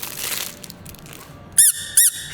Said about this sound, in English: Got a squeaky egg.